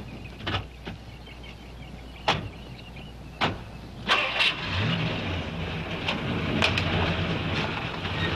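A car's engine starting after a few car-door clunks, the motor catching and settling into a steady, close running hum for the remaining seconds.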